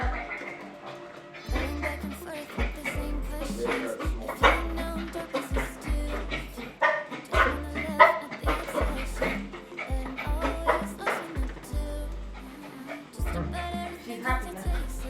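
A dog barking and yipping indoors: repeated short, excited barks and yips, close and fairly loud, with whimpers and panting between bursts while people talk over it.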